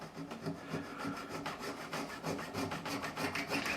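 Rhythmic back-and-forth scraping across wood, close and fairly loud, with quick repeated rasping strokes and no talk.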